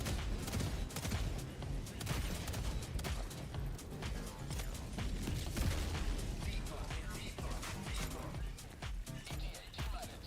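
Barrage strike in the Helldivers 2 video game, a dense, continuous stream of overlapping booms and crackling blasts that holds at a steady loud level for about ten seconds.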